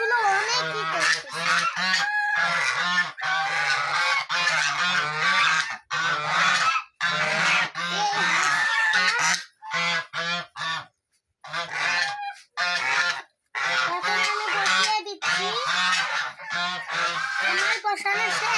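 Domestic geese honk loudly and close by in a rapid, continuous barrage of overlapping calls, with only brief pauses between bursts.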